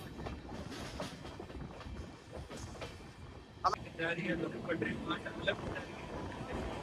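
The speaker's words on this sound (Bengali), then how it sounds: "ট্রেন আমাদের বর্ধমানের উদ্দেশ্যে রওনা দিয়ে দিল" The inaugural Howrah–Anand Vihar Amrit Bharat Express runs on the rails, a rumbling, rattling rhythm heard from inside with wind noise and faint background voices, growing busier and louder midway.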